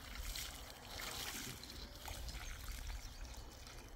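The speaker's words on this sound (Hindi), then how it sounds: "अब इसमें पानी डाल के इसको गीला कर देना है।" Water poured from a container onto the soil around a newly planted sapling, a soft continuous splashing trickle heard up close, steady and fairly quiet with no talk over it.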